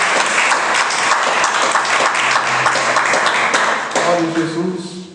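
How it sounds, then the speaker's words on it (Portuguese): A church congregation claps in praise to God, a dense round of applause that fades out as a voice begins speaking near the end. "Pode se assentar e pode louvar ao Senhor com as palmas,"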